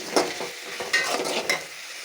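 Tomatoes softening over a low flame for a coconut chutney, with soft stirring scrapes and a faint sizzle in the pan, a few light clinks and no talking.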